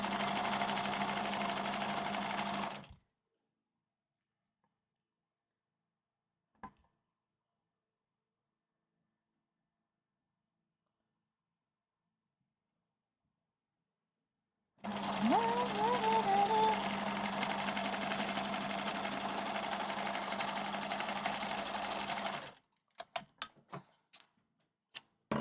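A sewing machine runs in two steady stretches while stitching a chicken kigurumi onesie, a constant mechanical whir with a long silent gap between them and a few ticks at the end.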